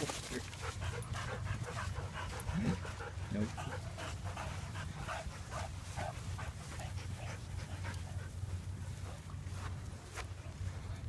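Dogs panting rhythmically close by on a beach walk, steady breathing over a constant background rumble of wind or surf, with a brief whimper-like sound early on.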